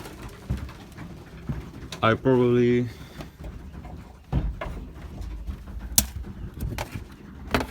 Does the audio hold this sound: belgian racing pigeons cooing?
yes